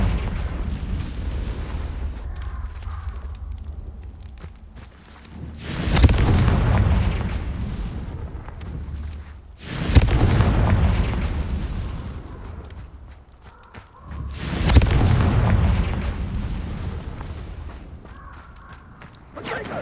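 Confringo blasting-spell explosions in the Hogwarts Legacy video game, three heavy booming blasts spaced several seconds apart over a constant rumbling game background.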